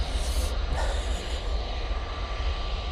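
An airplane at Manchester Airport makes a steady, broad engine roar with a low rumble that holds evenly throughout, heard from a distance with no voices.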